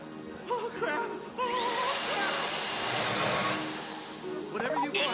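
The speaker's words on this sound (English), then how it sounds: "If the drill burns out, this whole thing will take too long." Heist drill grinding steadily in GTA 5 Online, a loud sustained whine with a wavering high pitch that runs for about two seconds in the middle, with game sounds and voices before and after.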